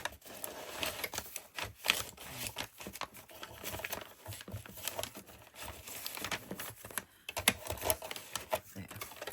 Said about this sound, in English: So I'm cutting this part out.